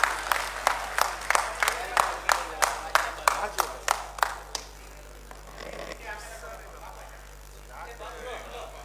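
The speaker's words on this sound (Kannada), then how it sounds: "ದಯವಿಟ್ಟು ಎಲ್ಲರೂ ದೊಡ್ಡದಾದ ಚಪ್ಪಾಳೆಯೊಂದಿಗೆ ಅವರ ಸ್ವಾಗತ ಮಾಡಬೇಕು ಅಂತ ಕೇಳ್ಕೊಳ್ತೇನೆ" A hall audience at a Constitution Day event greets a speaker with about a dozen evenly spaced, fairly strong claps. The claps then give way to a quieter murmur of voices over a steady low hum.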